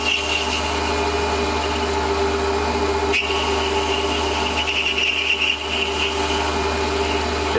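Wood turning on a lathe spinning at 1,000 RPM, a steady close mechanical whine and hum with a sharp tonal ring, one brief click partway through, continuous and even with no voices.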